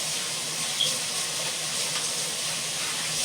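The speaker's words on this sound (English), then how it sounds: "Let me wash my hands." Water runs steadily from a kitchen tap while hands are washed beneath it, a continuous close hiss and splash with no talking.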